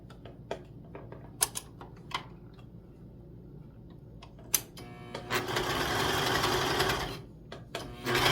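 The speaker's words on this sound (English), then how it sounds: "I'm gonna sew basically a long tube and then we're gonna turn it into a loop." A sewing machine stitching a long fabric tube for a vintage quilt Christmas stocking: scattered clicks and taps at first, then a close, loud continuous run of rapid stitching for a couple of seconds, followed by a few more clicks.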